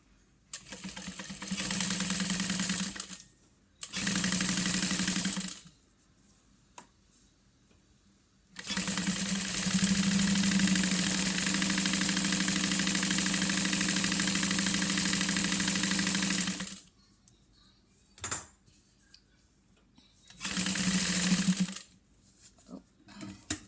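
Sewing machine stitching a seam with a half-inch allowance at a 2.5 stitch length, running in bursts: two short runs, a long steady whir of about eight seconds, then brief taps and one final short run.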